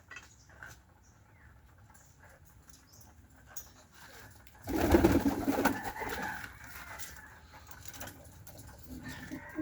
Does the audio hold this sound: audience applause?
no